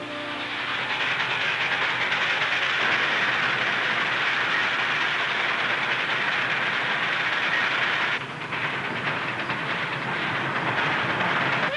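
A train rumbles along the tracks with a loud, continuous roar and faint clickety-clack, steady and close, with no voices over it.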